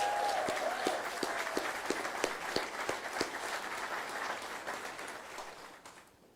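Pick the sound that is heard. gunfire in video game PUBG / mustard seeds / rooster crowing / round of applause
round of applause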